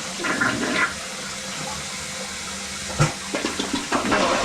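A toilet flushes to test a clogged drain, giving a loud rushing, hissing surge of water with gurgling bursts and a sharp clunk near the end, close and with no speech.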